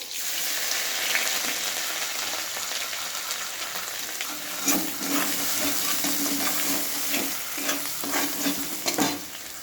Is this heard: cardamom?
yes